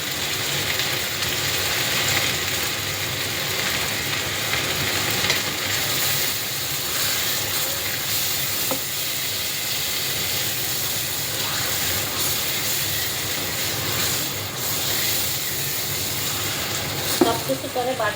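Spices, including chilli powder, frying in a pan for a beef biryani, heard as a steady, close sizzling hiss with scraping stir sounds and a sharp clack near the end.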